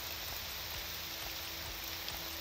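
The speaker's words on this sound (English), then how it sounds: "Not a wonder in this friggin' rain. Ooh, a thunderstorm even. I hate the rain." Steady rain falls during a thunderstorm in the video game Morrowind, a soft, even patter that stays faint and constant throughout with no voices over it.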